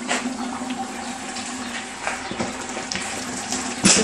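Water runs from a tap in a steady, moderately close stream with faint clatter and a sharp knock near the end.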